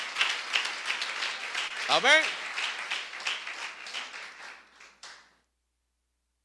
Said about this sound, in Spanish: Dale un aplauso a Jesús, por favor.